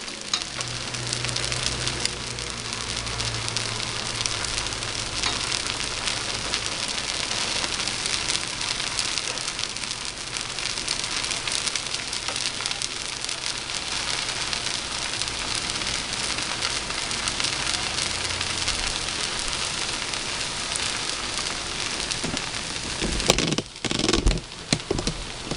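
Steady hissing sizzle of rice roll batter steaming in a covered pan, continuous and even throughout, with a brief clatter near the end.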